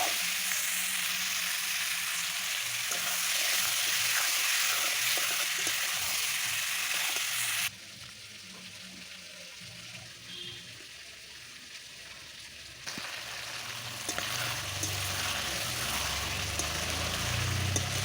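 Chicken pieces fry with spices in a pan, giving a loud, steady sizzle that runs the whole time, drops quieter for a stretch in the middle, then builds again, with no voices.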